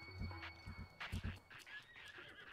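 A horse whinnies in a game scene, with hoof clops and other short game sounds around it, fairly close and moderately loud.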